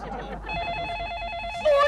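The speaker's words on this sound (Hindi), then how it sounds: "फोन बजा, कितने दिनों बाद फोन बजा।" A telephone bell rings in a rapid trill, close and clear, with a brief voice at the start and another louder sound at the end.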